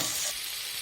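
Spices and prawns fry in hot oil in a home kitchen while being stirred, giving a soft, continuous sizzle with faint scraping, close but quiet.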